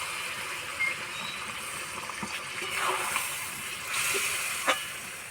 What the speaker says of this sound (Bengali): কষানো হয়ে গেছে এবার সিদ্ধ হওয়ার জন্য জল দিয়ে দেবো বেশি জল দেবো না